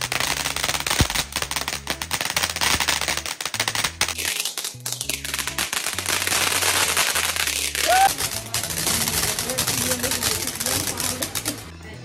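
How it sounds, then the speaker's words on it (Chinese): Fireworks and firecrackers go off outdoors on a festive evening, a steady run of sharp crackling pops and bursts with louder booms scattered through, while people talk and the crackle continues throughout. "来放烟花喽。 烟花真不错。"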